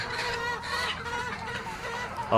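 Chickens cluck continuously on a small farm where they are raised naturally without medicine alongside goats, a dense overlapping chorus of fowl calls close by with a sharper call near the end.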